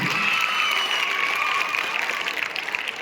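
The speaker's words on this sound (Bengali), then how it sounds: "জোরদার করতালি হোক।" Applause fills the air as a champion trophy is presented at an under-13 cricket tournament ceremony: a steady, dense crowd clapping with no break, a thin tone ringing faintly above it.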